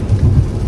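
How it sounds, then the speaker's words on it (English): Heavy pouring rain recorded on a phone, a loud dense rushing wash with deep rumbling wind-like low noise, continuous and close, without any talking. "and it is raining, it's pouring."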